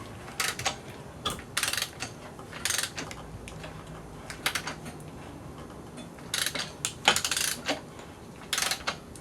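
An Audi A4 B5 1.8T crankshaft is turned by hand with a ratchet and extension during timing belt work, producing bursts of rapid metallic ratchet clicking separated by brief pauses, close and fairly loud.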